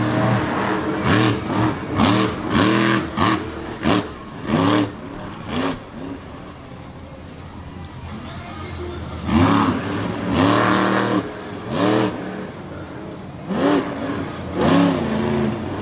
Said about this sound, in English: More awesome donuts, smoking the tires up here on the high side.